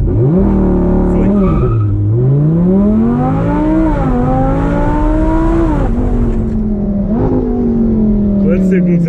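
An Audi R8 accelerates hard from 0 to 100 km/h, its loud engine note climbing steadily through the gears with brief dips at each shift, close and continuous, with voices in the background.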